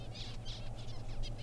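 Budgerigar calling in the outback at Farina, South Australia: a run of bright, chattering warbles repeated every few tenths of a second, fairly close, over a steady low hum.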